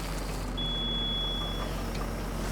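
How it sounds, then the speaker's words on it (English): Warning beep from a farm vehicle in Farming Simulator 25, one sustained high tone lasting about a second over a steady low engine drone. "I'm not sure why this one has a beep compared to the other one"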